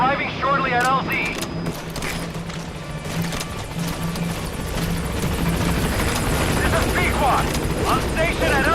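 Helicopter arriving at a landing zone in the Metal Gear Solid V video game, a steady rotor thrum and whine beneath distant gunfire bursts and mechanical clatter, with radio voices and shouted lines over it.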